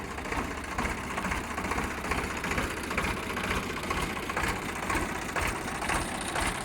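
A 2011 Sonalika 745 tractor idles in running condition: a steady, moderately loud diesel rumble with a faint rhythmic knock throughout and no voices.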